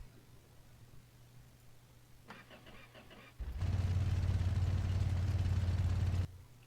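A car engine with no exhaust fitted cranks with a starter whirr, then catches and runs loud and rough at a steady idle for a few seconds before cutting off, close by.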